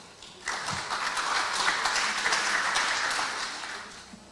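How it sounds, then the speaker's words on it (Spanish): An audience at an engineering congress breaks into sustained applause, a dense wash of clapping that swells, holds for several seconds and then tapers off, heard from within the hall. "la palabra al ingeniero Félix Delgado Pozo, para el cual pido un fuerte aplauso"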